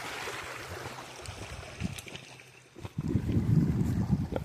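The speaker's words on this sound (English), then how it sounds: "It's a babbling brook." A babbling brook flows along an upstream hiking trail, a steady wash of running water with some wind buffeting the microphone, swelling louder and closer in the last second and a half.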